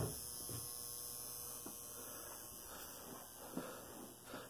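An old, noisy light fixture gives off a faint, constant electrical hum with a thin hiss over it, quiet and unbroken in an otherwise still space.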